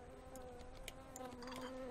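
Angry bees swarming in the Star Stable video game, a steady close insect buzz with a droning hum and a few brief sharp clicks, no voices.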